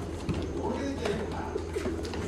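Pigeons coo softly in the background of a pigeon seller's loft, their low murmuring calls repeating under ongoing speech.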